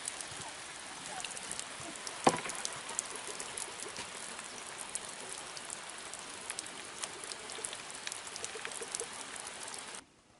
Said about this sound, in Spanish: Están cayendo algunas gotitas. Espero que no sea el inicio de una gran lluvia.